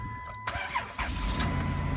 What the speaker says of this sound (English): I'm going to start my vehicle right up.